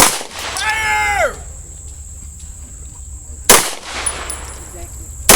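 Sharp pistol shots at an outdoor self-defense shooting range, a loud crack at the start and two more at intervals, each ringing out against a quiet background with a faint high electronic tone.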